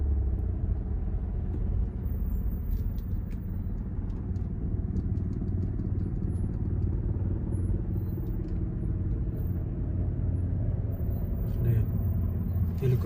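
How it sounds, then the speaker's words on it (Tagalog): Steady city road traffic on Halifax Road in Nova Scotia on a Friday afternoon, with many cars passing in a continuous low rumble that stays loud and even throughout, and a voice talking over it. "Daming sasakyan."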